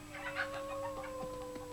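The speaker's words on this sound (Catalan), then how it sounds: "Posarem tots els pollastres dins del barril." Chickens cluck softly in an animated Robinson family adventure as they are gathered up, giving a few short, faint clucks over a quiet, steady background tone, with no talking.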